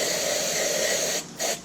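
Aqua Net hairspray hisses from a can onto a Harley handlebar during a rubber grip install, a long steady spray followed by two short quick bursts, close and loud.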